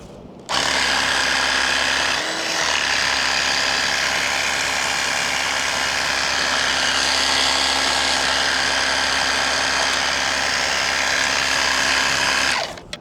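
A caravan jockey wheel wound by hand to lift the caravan onto its front legs, giving a continuous, close, loud mechanical ratcheting grind that runs unbroken for about twelve seconds, with no talk.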